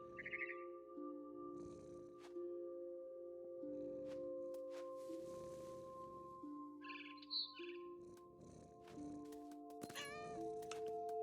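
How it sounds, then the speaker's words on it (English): A cat meows repeatedly in the video game What Remains of Edith Finch, with several short, clear, fairly close calls spread over a steady background of game music and chirping birds. "Why am I a cat?"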